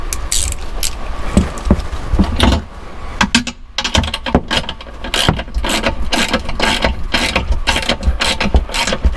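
A hand ratchet with a 7/16 socket tightening nuts with washers on a Ford Bronco, fast dense clicking in repeated bursts, loud and close, with a brief pause partway through.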